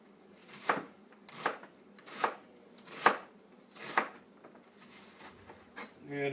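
A knife chopping onions on a cutting board, a series of about seven evenly spaced crisp cuts, close and fairly quiet, growing softer toward the end.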